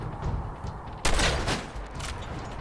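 Gunfire in the VR video game Fallout 4 VR: a loud, close burst of rapid shots cracks out suddenly and rattles for about a second before fading into ambient game noise.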